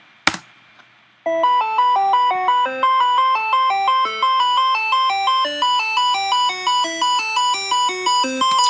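Synthesizer track built in Logic Pro in an electronic dance sound, playing a bright repeating chord pattern with a rising filter sweep, starting after a short percussive hit and running steady and loud with no talk.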